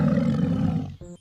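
A tiger gives a single loud, close roar that holds steady for about a second, then breaks off into a short, rough trailing growl, with no voices around it.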